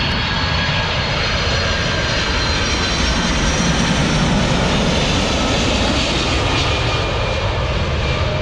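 A loud jet airplane roars continuously close overhead as it lands, a steady powerful engine rumble with a whining high tone, no talking.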